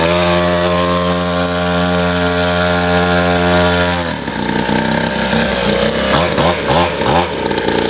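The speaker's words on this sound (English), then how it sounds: "She needs some air in those tires" An air compressor inflates the tires of a 50cc dirt bike, a loud, steady buzzing motor drone for about four seconds that then gives way to rougher, pulsing mechanical rattling.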